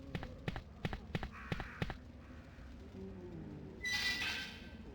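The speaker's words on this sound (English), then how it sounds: "Goddamn crows on a bus." Crows in Resident Evil 2 (1998) give a burst of about six harsh, rhythmic caws close by, followed by faint rustling and a brief high flutter.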